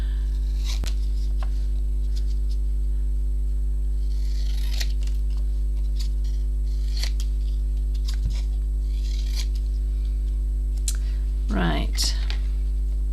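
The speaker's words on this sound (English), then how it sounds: "Cut it out." Scissors snipping around a small paper tag during card making, a few short crisp cuts over a steady mains hum, close and fairly quiet, with no talk.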